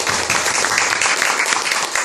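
A brief burst of congregation clapping after a youth sermon in a Korean church, a dense, even patter lasting about two seconds with no voices over it.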